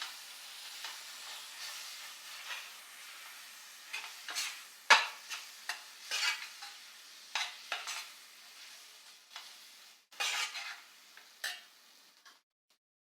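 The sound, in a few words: stirring coconut ladoo mixture with condensed milk in a pan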